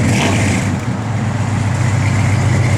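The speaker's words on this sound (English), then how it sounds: "Give a little rev, Jay." A 1969 Plymouth GTX convertible's V8 engine revving, a loud, close, continuous deep rumble with a rough low throb and slight swells in intensity, heard alone without talk.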